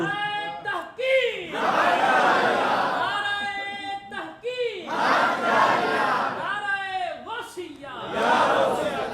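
A crowd at a Muharram religious gathering shouts a slogan in loud, rhythmic bursts, several call-and-response waves of massed voices rising and falling, with some individual shouts and chatter between them.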